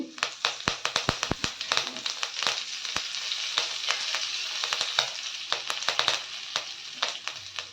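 Curry leaves and asafoetida sizzle in hot oil for a spring onion sambar, a dense steady crackle with sharp pops and occasional taps of stirring throughout, fairly close.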